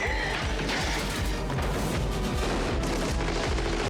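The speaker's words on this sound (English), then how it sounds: "It's what we use to shoot the sunflowers in the glass vase." A 9mm submachine gun fires rapid bursts into sunflowers in a glass vase, the dense crackling volleys mixed with smashing glass, loud and continuous for several seconds.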